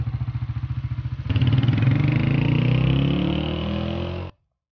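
Motorcycle engine idling with a steady puttering beat, then revving up into a loud, sustained drone as it pulls up close and stops abruptly, with no voices.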